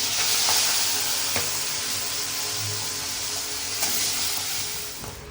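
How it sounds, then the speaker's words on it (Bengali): Fish frying in hot oil in a home kitchen, a steady bright sizzle throughout with a few sharp crackles and pops, close and continuous with no talking. "আর আগে ভাবছি যে মাছ রান্নাটা করে নিই, আগে মাছগুলো ভেজে,"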